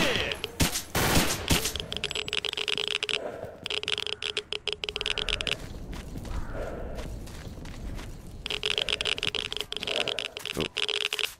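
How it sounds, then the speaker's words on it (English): Rapid automatic gunfire in S.T.A.L.K.E.R.: Call of Pripyat with the Misery mod, fired at bears in bursts separated by brief pauses, loud and close. "Shoot the bear heads."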